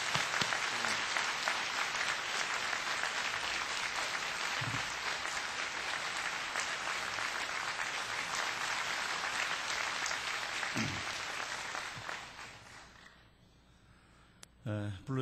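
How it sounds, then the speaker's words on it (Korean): A Korean Baptist church congregation at Suwon Central Baptist Church greets an elder with sustained, full-room applause for about twelve seconds, which then fades to near silence before a voice begins. "박수로 환영하겠습니다."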